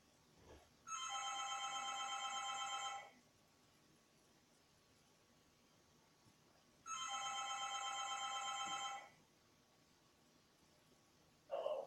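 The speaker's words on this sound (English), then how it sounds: "As soon as it's done ringing, I'll go on with the rest of the story." A telephone rings twice before an answering machine picks up, each ring a steady electronic trill lasting about two seconds, separated by a long quiet gap over a faint hum.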